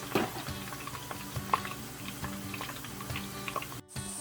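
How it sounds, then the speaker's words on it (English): Potato chips fry in hot oil in a Dutch oven, giving a low, busy bubbling and sizzling with small crackles, fairly quiet and close, with no voices. "the oil is going to react to the water and it's going to bubble up a lot like this"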